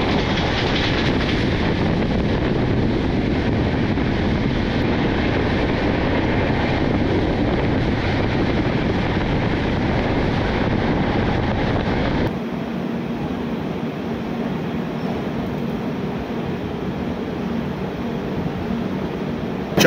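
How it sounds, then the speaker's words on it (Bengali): The Howrah Puri Superfast Express rumbles along steadily at close range, its wheels clicking over rail joints under a broad roar of motion. The sound eases somewhat as the train nears Puri station. "চারশো 99 কিলোমিটার যাত্রা সম্পন্ন করে আমাদের ট্রেন অবশেষে পুরী স্টেশনে"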